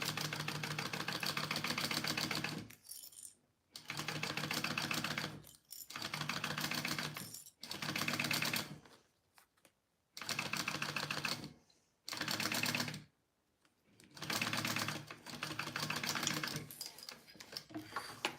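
A sewing machine bastes a Joey Pouch in repeated fast stitching runs of a few seconds each, separated by brief pauses, close and steady.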